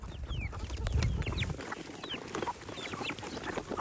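Chickens clucking in a Thai farmyard, short clucks and chirpy calls scattered throughout at moderate distance, with a low rumble in the first second and a half.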